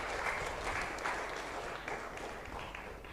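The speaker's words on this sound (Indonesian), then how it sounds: "Tribuners boleh berikan tepuk tangan yang sangat meriah" Steady, dense applause from a studio audience at a political talk show, loud and continuous throughout with no break or voices standing out.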